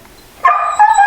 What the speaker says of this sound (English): When the driveway alarm goes off, the dog barks.